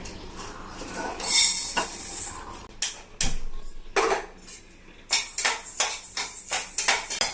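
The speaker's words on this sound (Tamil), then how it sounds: "பச்சரிசி இதை வாழலையில போட்டு நல்லா கோல்டன் ப்ரௌன் வர வரைக்கும் நல்லா வறுத்துக்கலாம்" Raw rice dry-roasting in a pan until golden while a spoon stirs it, giving repeated metallic clinks and scrapes over a light rustling hiss. The sound is close and steady, with no one speaking.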